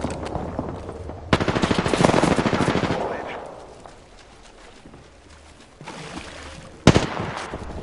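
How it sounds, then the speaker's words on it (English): Gunfire in a PS4 battle royale game: rapid automatic bursts, loud and close, then a quieter lull before further sharp shots return near the end. "Shot fired, and they're hitting me."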